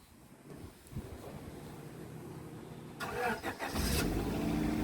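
A car engine cranks and fires up after a quiet stretch, catching near the end into a loud running rumble, with wind noise across the microphone.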